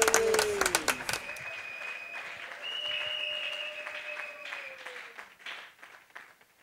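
Church congregation at a New Year service applauding and acclaiming Jesus Christ, starting with a burst of clapping and cheering that gives way to sustained crowd acclamation with high sung or shouted tones, fairly loud throughout.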